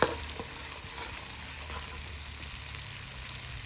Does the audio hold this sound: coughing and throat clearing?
no